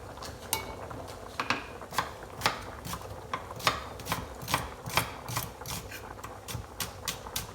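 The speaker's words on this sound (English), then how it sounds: "So you can slice your shallot." A knife slices a shallot on a cutting board in a steady rhythm of crisp, close taps, over a soft kitchen background hum.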